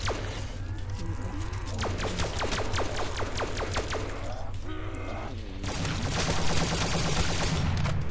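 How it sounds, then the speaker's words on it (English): Rapid bursts of zap-like gunfire from a gun in a Minecraft zombies map, firing in quick repeated volleys, loud and close, with a steady low hum and a short pause before more shots. "this gun literally sounds like I'm shooting some kind of fucking laser from a Star Wars shit"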